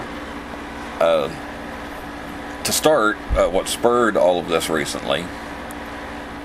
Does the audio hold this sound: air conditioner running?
yes